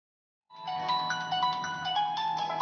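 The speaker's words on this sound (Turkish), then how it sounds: "Zil sesi, şey alarm ya. Alarm." A phone alarm ringtone starts abruptly after a brief silence and plays a bright, repeating electronic melody, loud and close, with no talking.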